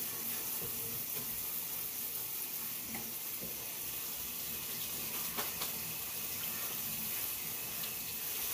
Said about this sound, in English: And then give it a good rinse.